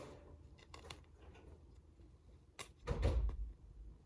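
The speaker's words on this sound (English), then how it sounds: "I heard the door open." A door opens somewhere in a house, a soft click and a muffled thump-and-rattle a few seconds in, heard faintly against quiet room noise, with a few small taps before it.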